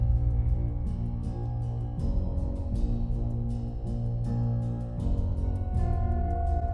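A dark orchestral passage with sustained low brass and strings, steady and full, slowly shifting chords with soft percussive accents, played alone without speech.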